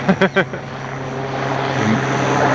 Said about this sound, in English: That's the new police helicopter, I think.